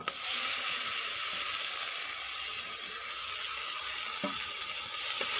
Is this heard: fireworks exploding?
no